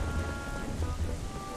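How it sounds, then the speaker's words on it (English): Stormy rain pours in Zelda: Twilight Princess HD, with a dense, steady hiss of rainfall and low rumbling thunder underneath, constant and close throughout. "I love the stormy weather. I love the stormy effect here."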